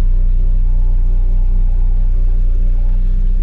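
A machine carrying a load on its pallet forks drives slowly at a house building site, giving a steady low engine rumble and drone, close and continuous with no pauses.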